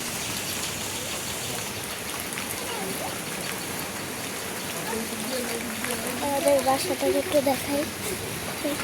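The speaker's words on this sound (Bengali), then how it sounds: "এখন বৃষ্টি পড়া শুরু হয়ে গেছে" Continuous rain patters in the background while a person talks, their voice growing clearer toward the end.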